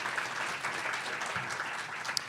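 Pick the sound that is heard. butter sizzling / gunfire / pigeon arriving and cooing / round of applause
round of applause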